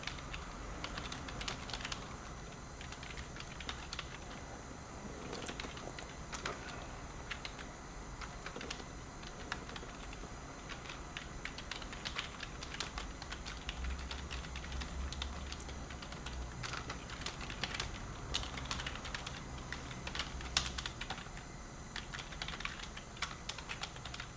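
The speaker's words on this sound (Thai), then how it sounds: "ก็พิมพ์ประโยคเข้าไปเลยฮะ" Steady typing on a computer keyboard, entering a sentence into an AI song-writing program, with rapid irregular key clicks running continuously at a fairly quiet, close level and no voices.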